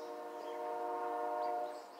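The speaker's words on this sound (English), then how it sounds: "That's the train going through town." Union Pacific train horn sounding as the train runs through a small town beside the city park in Alpine, a steady, sustained multi-tone blast held for about two seconds, moderately distant and alone.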